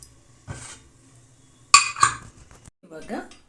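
Metal lid and weight being set onto a pressure cooker while making restaurant-style mint rice, giving a couple of sharp close clanks and clinks with a faint earlier knock and a brief voice near the end.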